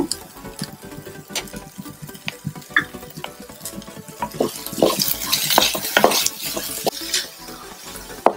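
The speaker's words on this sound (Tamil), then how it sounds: "இந்த ஸ்டேஜில் நல்லா வதக்கி விட்டுடலாம்" Chopped capsicum and ketchup sautéed in a pan for chilli idli fry, with a spoon repeatedly scraping and clacking against the pan over a light sizzle, growing busier and louder midway.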